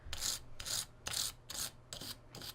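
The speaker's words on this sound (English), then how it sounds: "I'm just cleaning out where the U-joint sits in this yoke so that I don't have too much to fight with clearance-wise." A metal tool scrapes and files repeatedly at the U-joint seat in a Jeep Wrangler TJ front driveshaft yoke, six rhythmic rasping strokes at close range with no voices.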